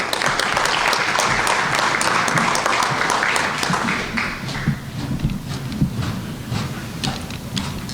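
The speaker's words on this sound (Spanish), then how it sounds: "un aplauso para el doctor Milton Rojas" A crowd at an academic health forum bursts into loud, sustained applause that gradually thins into scattered individual claps toward the end.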